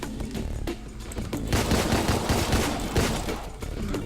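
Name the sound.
gunfire in the video game Deadbolt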